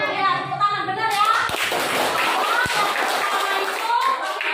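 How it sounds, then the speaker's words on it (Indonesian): A class of children clapping in a school lesson, a dense patter of hand claps running steadily through the whole stretch, fairly close, with young voices chattering underneath. "tepuk tangan benar ya"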